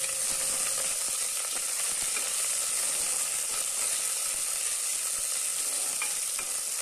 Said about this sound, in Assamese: পিঁয়াজখিনি অলপমান ৰঙচুৱা হোৱালৈকে মই ভাজি থাকিম